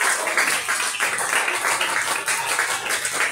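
Audience applause at a church anniversary celebration in Barbados: sustained, dense clapping from a crowd, steady and fairly loud for the whole stretch, with no clear voice over it.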